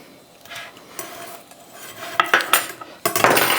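Cutlery scrapes and clinks against a plate while cooked sausage meat is cut in half, with a few sharp metallic taps and scraping strokes growing louder toward the end, close and without talk.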